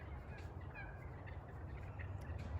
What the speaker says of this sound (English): can you hear all the turkeys?